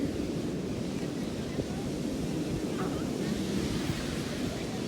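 Ocean waves washing onto a beach, a continuous rushing roar mixed with wind buffeting the microphone, steady and fairly loud with no clear talk.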